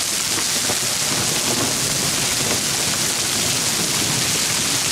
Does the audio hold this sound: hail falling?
yes